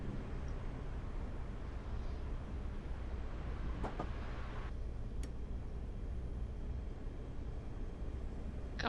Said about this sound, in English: The train is having trouble getting up to the platform here.